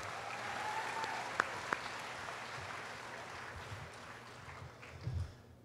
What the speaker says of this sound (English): Let's get another round of applause to our summa cum laudes